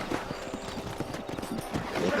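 Horse hooves clip-clop steadily in Red Dead Redemption during a nighttime ranch patrol, a brisk even rhythm of close hoofbeats over a faint ambient bed.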